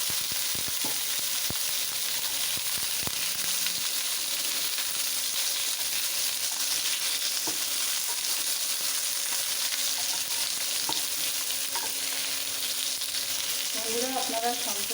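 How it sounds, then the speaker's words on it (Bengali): Eggplant and potato pieces fry in hot oil in a pan, a steady close sizzling hiss with a few stirring knocks and brief talk toward the end. "এবার সবজিগুলোকে দিয়ে দিলাম। বেগুন আর আলু দিয়ে দিলাম।"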